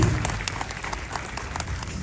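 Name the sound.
applause for a honoured daughter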